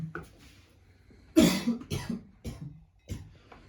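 A man coughs several times in a row, harsh, chesty bursts close to the microphone, separated by short breaths, with a quieter low murmur at the start.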